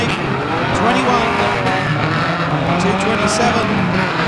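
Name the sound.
stock car skidding and crashing into wall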